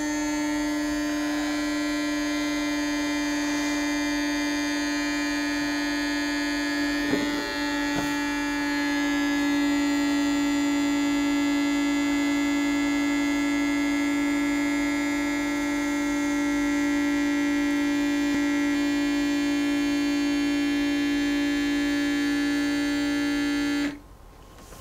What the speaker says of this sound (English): let's see if it actually sucks the air out a little bit quicker